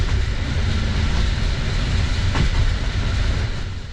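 A TLK night train from Warsaw East to Jelenia Góra rumbles loudly along the rails, a constant low roar with a faint rhythmic clatter, heard from inside the carriage.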